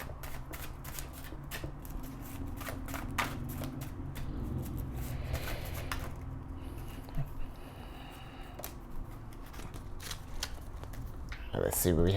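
Tarot cards are shuffled by hand near the microphone, a long run of rapid riffling flutters and soft slaps, with a person talking over much of it.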